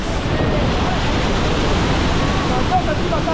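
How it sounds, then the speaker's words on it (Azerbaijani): A steady, roaring rush of falling water from a waterfall in a large waterfall complex fills the whole stretch, loud and unbroken; a voice may be faintly present beneath it. "Gördüyünüz bu şəlalə"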